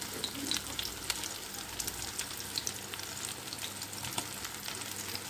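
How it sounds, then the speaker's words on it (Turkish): Steady crackling sizzle of horse mackerel frying in hot oil in a pan, with scattered pops and spits over a continuous hiss, close and moderately loud. "Tavamızda kızartıyorum."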